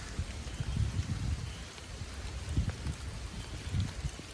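Rain falls on a forest trail at Camp John Hay, a steady soft patter with a few heavier low thuds and rumbles mixed in, and no talking.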